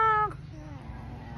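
A small toddler imitates a cat's meow with one short, high, tonal call near the mic, breaking off after a fraction of a second into a quiet background hum.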